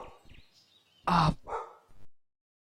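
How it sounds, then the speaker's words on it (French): Dogs bark nearby in a few sharp, loud barks with quieter yips around them, over a couple of seconds. "c'était les chiens qui faisaient les cons comme d'habitude"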